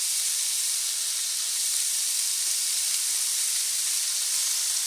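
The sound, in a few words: goose meat sizzling in a hot pan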